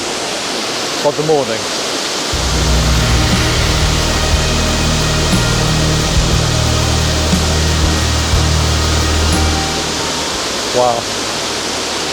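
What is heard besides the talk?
waterfall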